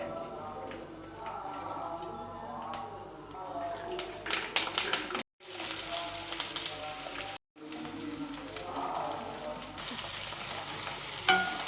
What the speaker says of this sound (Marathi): आता जे मसाले आहेत ते आपल्याला तेलामध्ये पूर्ण तळून घ्यायचे आहेत।